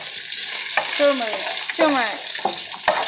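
Mustard seeds, curry leaves, green chilies and salt sizzle steadily in hot oil in a pan for lemon rice, with spoon-stirring knocks over the hiss and a voice speaking briefly between strokes.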